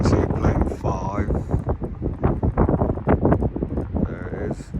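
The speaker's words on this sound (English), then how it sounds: "It is a bit windy today" Gusty wind buffets an outdoor microphone at an airport viewing spot, a loud low rumble swelling and dropping in irregular gusts across the whole stretch.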